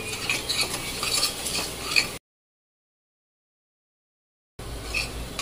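Ginger, garlic, green chili and cumin paste sautéing in hot oil, soft sizzling with spoon stirring and scraping in the pan, broken by a stretch of total silence before the frying sound resumes.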